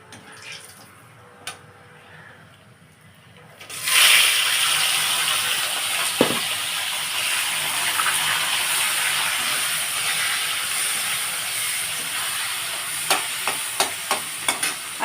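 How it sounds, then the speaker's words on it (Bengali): Chopped onion and tomato tipped into a hot frying pan for a Bengali green jackfruit and prawn curry, setting off a loud, steady hiss that jumps up suddenly and holds, with a few small clicks near the end. "দেখুন বন্ধুরা, পেঁয়াজ কুচিটা আর টমেটোটা আমি দিয়ে দিচ্ছি এর মধ্যে।"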